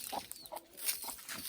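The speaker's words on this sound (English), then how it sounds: "Where is this chicken here?" A chicken clucks inside a farm house, giving several short soft clucks in an uneven rhythm over a faint, noisy room background, with no one speaking.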